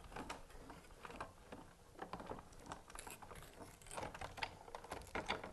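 A Sizzix die-cutting machine, hand-cranked as the dies and fabric pass through, gives a continuous quiet ratcheting clatter of small clicks and gear rattles at close range.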